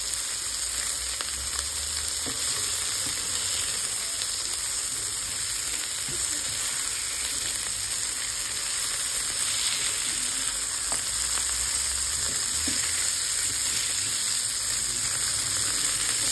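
Burger patties frying on their second side after being flipped give a loud, steady close-up sizzle and crackle that runs unbroken throughout, with faint occasional pops and no voices.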